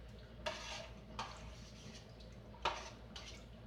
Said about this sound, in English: So now we stir that pot a little bit, get those mixed in there